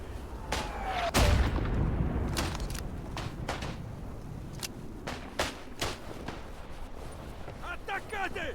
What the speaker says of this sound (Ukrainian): Звідки він стріляє?